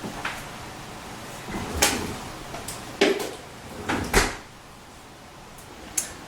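A home freezer door is opened and shut to take out a small saucer of apple jelly set for a doneness test, giving several short thumps and latch clicks spread across a quiet kitchen, with no talking.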